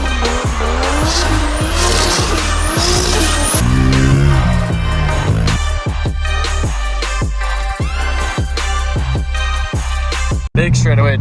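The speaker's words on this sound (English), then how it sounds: "Big straightaway downshift." A Nissan R32 Skyline sedan driven hard, its engine loud and close with rising revs and a sharp drop on downshifts, tire squeal and brief gear-change gaps, and a voice talking over it.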